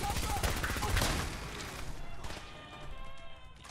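A rapid burst of Fallout 4 gunfire crackles in quick succession near the start, then tails off into rattling debris and a faint ringing decay, with a voice speaking briefly.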